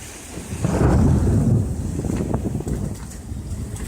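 Thunder from a big lightning strike rolls out of a storm over a lake during a tornado warning, a loud, deep rumble that swells and then fades into steady wind and rain noise with microphone buffeting.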